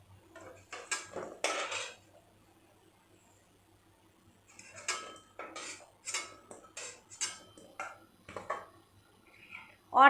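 Metal utensils clatter and scrape against a pan as fried potatoes are lifted out while cooking a duck-egg curry, coming in irregular bursts of clinks with quiet gaps between them.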